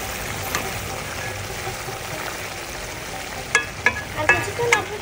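Steady low sizzle of Bata fish curry with spices and vegetable stalks simmering in a pan, with a few clinks of a spoon stirring near the end.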